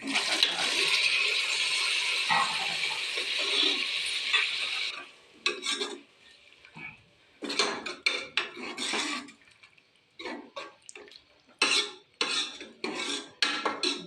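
Tomatoes tipped into a pan of cooking ginger, garlic and red and green chillies for a mixed carrot and potato dish, with a long continuous sizzling rush followed by scattered clattering bursts of a spoon stirring against the pot.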